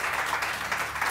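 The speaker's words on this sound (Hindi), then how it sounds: "मेरे को तालियां बजाओ यार, ये तो मेरे लिए बजाओ।" A studio audience claps together on a morning TV show, a brief burst of dense, even applause heard at close range with no voices over it.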